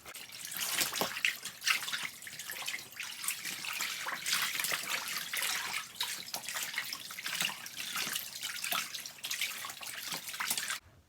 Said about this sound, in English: just going to agitate it and have all that vinegar water get through